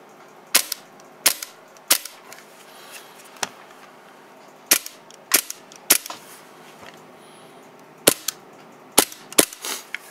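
Aluminum-bodied gun fired in a quick series of sharp, snappy cracks, about a dozen shots in uneven clusters with short gaps, close and crisp against a quiet background.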